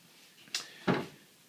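A drawer in an IKEA kitchen showroom, handleless style, slides and shuts: a short sliding swish followed by a firmer close thud, close by and alone with no talk.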